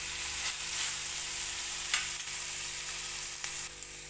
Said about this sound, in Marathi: कांदा चांगला बारीक फ्राय करून देते आता